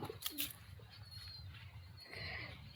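Pigeons cooing nearby, soft low throaty coos repeating in short bursts, faint and close over a quiet background, with no speech.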